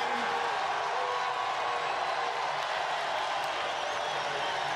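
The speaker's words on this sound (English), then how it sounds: "Listen to the crowd, standing ovation at the beginning." A rugby crowd at Athletic Park gives a standing ovation, a dense, distant wash of applause and cheering that holds steady and fairly faint throughout.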